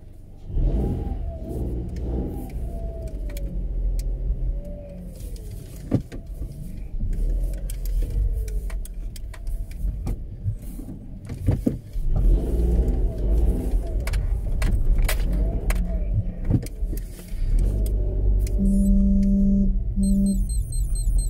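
A car is driven on a road while a watch's navigation is tested, the engine humming and revving steadily close by with tonal whirs, faint clicks and a few short electronic beeps near the end.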